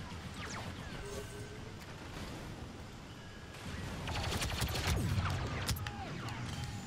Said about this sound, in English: I'm getting shot at by like four people